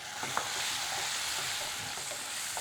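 Tomato, chili and garlic paste sautéed with dried shrimp in a pan, a steady close sizzle with occasional stirring scrapes and no talking.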